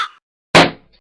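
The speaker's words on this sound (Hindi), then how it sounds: "भैया इसने मेरा गुब्बारा फोड़ दिया।" A balloon bursts during Diwali festivities, a single sharp loud pop with a short decaying tail, preceded by a faint trailing bird call.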